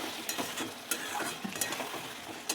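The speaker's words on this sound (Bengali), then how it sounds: "ভালো করে নেড়ে ছেড়ে এটাকে মেশাবো" Chicken kadai being stirred in a pan, with a spoon scraping and tapping the metal in irregular strokes over a steady low sizzle of frying, close and fairly quiet, no talking.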